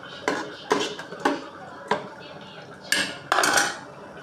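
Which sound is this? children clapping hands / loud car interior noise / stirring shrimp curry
stirring shrimp curry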